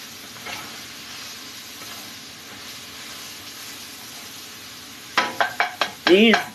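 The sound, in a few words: onion caramelizing in a pan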